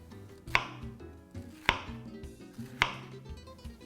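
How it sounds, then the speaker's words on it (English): A knife slices partway through an onion on a cutting board, giving three soft, evenly spaced cuts close by over a quiet room hum. "I'm going to take some down like this, about halfway through or so"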